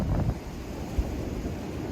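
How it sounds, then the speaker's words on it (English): Strong, steady wind buffets the microphone outdoors on a deer hunt, a continuous low rumbling roar with a brief louder gust near the middle and no voices. "Hope that wind dies down."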